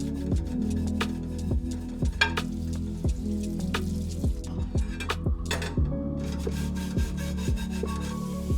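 A microfiber cloth makes repeated rubbing and wiping strokes across a hard surface, steady and close, with faint rasping squeaks between passes.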